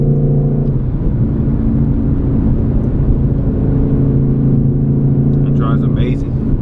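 A 2020 Ford Mustang 5.0 with a muffler delete drives through night streets in fourth gear, its engine giving a steady, loud, low rumble throughout with a driver's voice talking over it.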